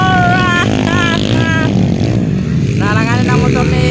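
An enduro motorcycle's engine revs hard during a race in Purok 6, Patpat, Malaybalay City, Bukidnon, its rising and falling pitch repeating in several bursts under loud commentary and crowd noise.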